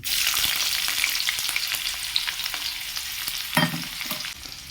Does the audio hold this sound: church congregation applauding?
no